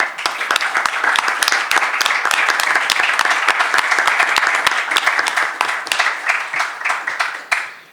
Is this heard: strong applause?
yes